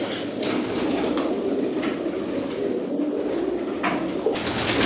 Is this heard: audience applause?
no